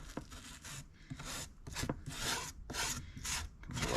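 A nylon-bristle welding brush scrubs residue off parts during a first-generation Toyota Tacoma heater core installation, making repeated close, raspy strokes in an uneven back-and-forth rhythm with no talking.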